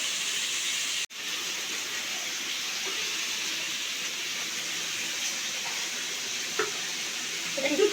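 Pumpkin curry vegetables frying in a pan, a steady close hiss and sizzle with a sharp click near the start and a few soft stirring scrapes toward the end, no talking.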